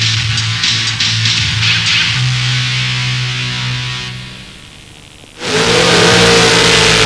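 Drag racing cars at the 1989 World Finals roar at full throttle: a loud, sustained engine howl fades away, then a fresh blast of high-revving engines bursts in sharply and stays loud and close. No one talks.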